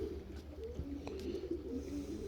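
Pigeons in a loft give a steady, low, rolling coo that carries on without a break, close and fairly soft, with faint rustling and small clicks behind it.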